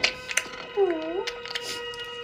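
Hungry cat giving a single drawn-out meow close by, with rising and falling pitch, amid light background noise and clicks.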